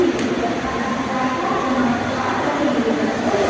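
A steady, loud rumble and rattle fill the inside of a Mumbai local passenger train running between Mira Road and Sanpada, continuous and close with no talk.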